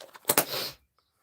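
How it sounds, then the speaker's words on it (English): A single loud sneeze, a sharp double burst followed by a breathy trailing exhale, close and alone, then silence, from someone crafting a masculine Father's Day card with Stampin' Up stamps. "I know that was a sneeze and a half, wasn't it"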